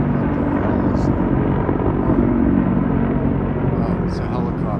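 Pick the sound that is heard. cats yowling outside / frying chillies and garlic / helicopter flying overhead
helicopter flying overhead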